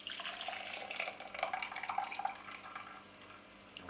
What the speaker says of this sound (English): I'm simply going to squeeze all of that excess moisture out. Carefully decant it into the jug.